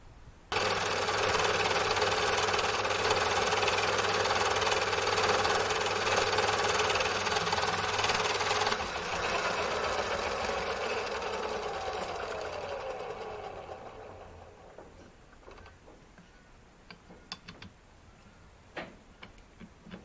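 A lathe or mill on a Gingery-style home-built machine bores out the centre of a 4-inch (100mm) metal disc, giving a loud, steady machining whine and chatter for about fourteen seconds before winding down, followed by scattered light clicks and taps.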